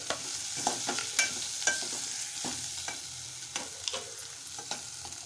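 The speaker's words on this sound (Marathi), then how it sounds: "आता मी उकडलेला बटाटा घालत आहे मिश्रण छान एकजीव करून घेत आहे" Boiled potato and onion mixture is stirred in a pan, with repeated soft scraping and tapping strokes of a spoon over a faint, gentle sizzle.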